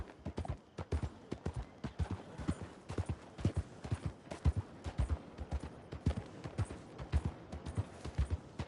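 Horse hooves in Red Dead Redemption 2 pound in a quick, steady galloping rhythm, close and continuous, with no voices over them.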